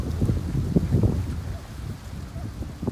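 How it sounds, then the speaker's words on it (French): Strong wind buffets the microphone at a sailing race on the water, low rumbling gusts that surge and ease throughout, loud and close. "Vous voyez, le vent est très fort."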